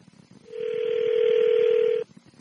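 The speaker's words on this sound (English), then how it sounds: "Pick up the phone." A telephone tone on a call, one loud, steady, clear beep lasting about a second and a half, with a brief faint click after it.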